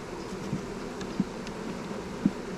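Honeybees fanning at a nuc hive make a soft, steady hum, with a few brief louder buzzes as individual bees fly close by.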